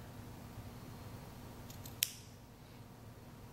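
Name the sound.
cutting a flattened piece down the center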